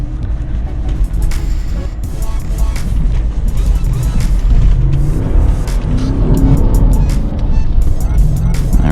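A Lexus GX 460 SUV climbs steep sand dunes, its engine roaring steadily and close under load while sand and the chassis rattle throughout.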